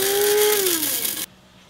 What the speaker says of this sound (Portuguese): Eu vou ter que moer ele, vou misturar com esse outro café aqui